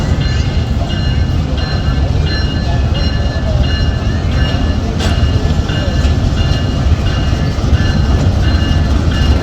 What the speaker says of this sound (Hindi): leading power 8 down Tezgam express attach होने आ रहा है